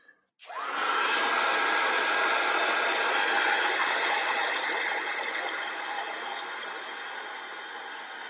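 A heat tool switches on abruptly and blows a steady loud whooshing hiss while heat-setting bonding powder on nails, holding constant close by and easing slightly toward the end.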